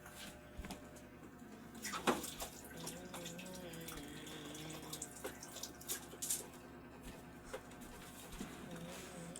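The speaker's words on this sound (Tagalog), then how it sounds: "Hugas ako ulit." Hands being washed again under a running kitchen tap, a soft steady stream of water with small splashes and a few louder clatters, faint and close, with no talk.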